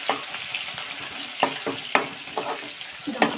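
Curry leaves, green chillies and onion hit hot oil for upma, crackling steadily with sharp spitting bursts as each addition drops in.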